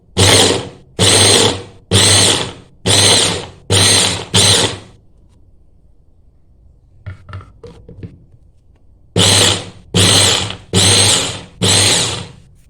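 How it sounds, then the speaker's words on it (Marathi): Electric kitchen beater whirring in loud repeated bursts while processing watermelon rind, six short pulses, a quiet pause with a few clatters, then four more bursts. "ते आता आपण बिटरला काढून घेऊया कलिंगडाची साल"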